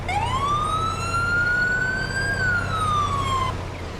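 A UK-style police siren wails from a car in Farming Simulator 22, one long rising-and-falling sweep that sounds loud and close over a steady low engine hum.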